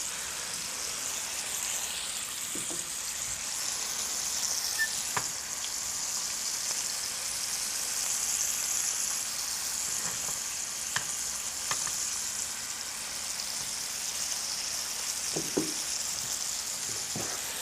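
Meat searing in clarified butter in a pan makes an even, hissing sizzle that holds steady the whole time, with occasional faint ticks and pops, close by and without speech.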